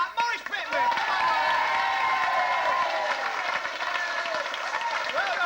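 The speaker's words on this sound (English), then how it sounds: "ladies and gentlemen, give a round of applause" Sustained applause and cheering from an audience at a church pantomime, loud and continuous, with a voice speaking over it at the start.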